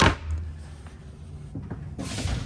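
The double door of a 2025 Airstream Flying Cloud 27FB trailer clunks open or shut with a couple of close, short knocks and a soft rattle.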